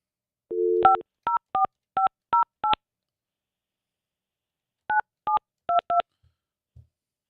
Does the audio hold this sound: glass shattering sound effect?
no